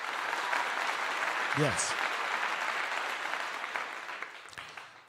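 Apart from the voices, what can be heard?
applause during livestream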